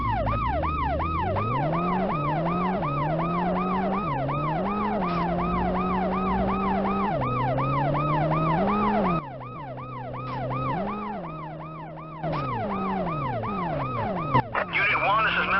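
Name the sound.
ambulance siren in World's Scariest Police Chases video game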